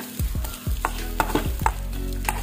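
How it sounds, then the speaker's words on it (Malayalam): Grated coconut roasting in coconut oil, a spoon scraping and stirring the pan in quick repeated strokes over a soft, steady sizzle, close and alone. "തേങ്ങയൊക്കെ ഈ വെളിച്ചെണ്ണയിൽ നല്ലോണം ഒന്ന് മൂപ്പിച്ചെടുക്കണം, വറുത്തെടുക്കണം"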